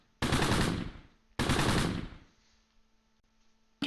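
Two loud, close bursts of rapid machine-gun fire in the Close Combat World War II strategy game, each a dense rattling volley about a second long, separated by a short quiet gap.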